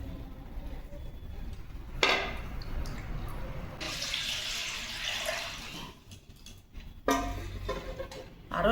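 Pieces of ash gourd are rinsed in water for a murabba, with running water and splashing from a tap into a sink or bowl, swelling and fading over several seconds close by.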